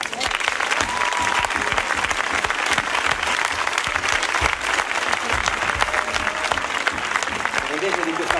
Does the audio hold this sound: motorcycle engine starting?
no